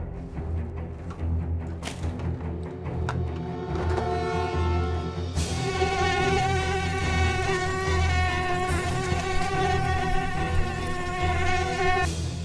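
Mosquitoes and flies buzz outdoors in a dense, continuous whine of many insects, steady and fairly loud throughout with no talking.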